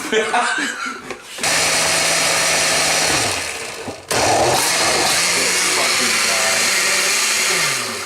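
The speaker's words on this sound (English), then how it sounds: "The blender's a little tricky, audience." A kitchen blender whirs through fermented hot sauce in two bursts, a loud high motor roar with the pitch dipping as it loads, cutting off briefly before starting again, with people talking before and around it.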